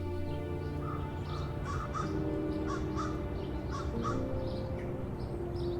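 Several crows caw repeatedly at a distance near a tree in the woods, harsh calls in loose succession over a steady background hum.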